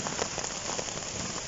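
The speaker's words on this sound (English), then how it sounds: "as you can probably hear, it's raining. It's been raining for quite a while." Steady rain patters on a tent during a wild camp on the Icknield Way, a dense, close, even hiss of drops with scattered louder taps and no voices.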